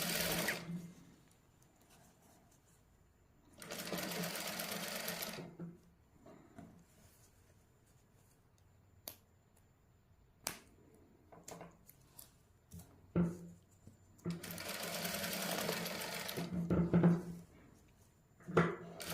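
A sewing machine stitching a neckline design in a Punjabi boutique, running in bursts of steady whirring at the start, middle and end, with quiet handling clicks and taps in between, close up.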